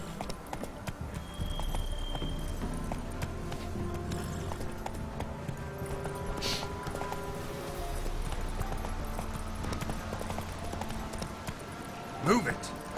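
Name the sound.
horse Roach's hooves galloping in The Witcher 3 video game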